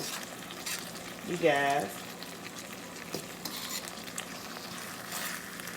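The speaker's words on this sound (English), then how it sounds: "So let me stir this together" A beef and broccoli stir fry with cornstarch slurry and beef bouillon is stirred in the pan, giving a low steady sizzle and soft scraping, with a short burst of speech partway through.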